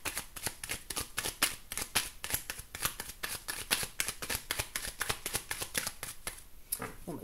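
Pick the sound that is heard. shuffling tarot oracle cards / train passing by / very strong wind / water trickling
shuffling tarot oracle cards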